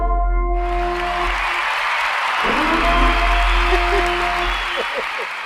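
Canned applause effect triggered during a livestream: a steady wash of clapping and cheering that rises quickly and holds for several seconds, fairly loud, with someone talking over it.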